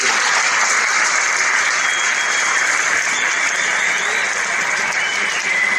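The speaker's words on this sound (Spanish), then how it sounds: "un aplauso enorme" A crowd gathered for a flat-earth conference in Madrid gives loud, steady applause, a dense, continuous wash of clapping close by that holds at full strength throughout.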